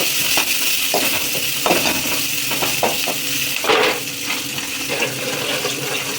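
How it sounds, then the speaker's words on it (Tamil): Onions fry in oil with curry masala and cinnamon for kada curry, a loud continuous sizzle with a wet bubbling hiss, broken by a few scraping stirs and one brief surge of spatter near the middle. "தேவையான அளவு கறி மசாலா பட்டை, வெங்காயம் நல்லா பொன்னரமாக இதை வதக்கி வச்சுக்கலாம்."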